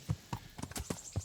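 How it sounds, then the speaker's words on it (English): Horse hooves clip-clopping in the medieval video game Kingdom Come: Deliverance, six evenly spaced, fairly close hoofbeats in a steady walking rhythm with no talk over them. "I can't talk to him while he's on his horse"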